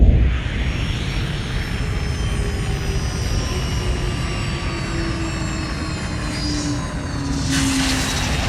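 A spaceship landing sound effect in a science-fiction audio drama: a loud, continuous engine roar with whining tones that slowly shift pitch, holding steady throughout and swelling slightly near the end, with no voices.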